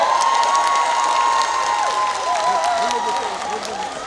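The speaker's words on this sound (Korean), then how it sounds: "순창 군수님께도 뜨거운 박수 한번 부탁을 드리겠습니다" Outdoor festival crowd at a fermented sauce festival in Sunchang, clapping and cheering loudly and steadily for about four seconds, with shouts and voices over the applause.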